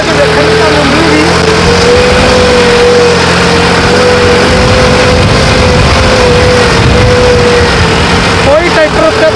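A modified, turbocharged New Holland 3630 Super tractor, boosted from 50 to 65 hp, runs with a loud, steady engine drone and a firm low hum throughout. A voice seems to talk over it, and the note wavers briefly near the end.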